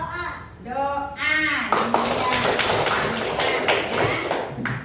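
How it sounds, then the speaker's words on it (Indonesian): Children clap their hands in a classroom, a burst of rapid, sharp claps that fills the room over a few seconds, following a voice at the start. "Tepuk tangan."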